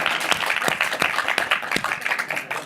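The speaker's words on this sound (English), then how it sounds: "So, round of applause." A conference audience at a KubeCon + CloudNativeCon session gives a short round of applause, dense irregular clapping from a modest crowd heard fairly close and fading slightly toward the end.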